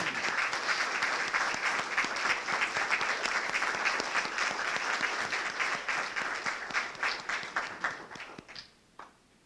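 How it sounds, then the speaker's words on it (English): An audience at a Business Hall of Fame event applauds previous inductees and their spouses with sustained clapping that gradually thins into scattered individual claps and fades out at the end. "Please stand and receive our applause."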